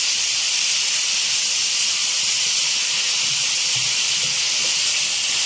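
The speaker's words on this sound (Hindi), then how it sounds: "और प्याज को हमें अच्छी तरह फ्राई करना है इसमें।" Grated onion fries in hot oil, giving a loud, steady hiss of sizzling that runs unbroken throughout, close up with no voices.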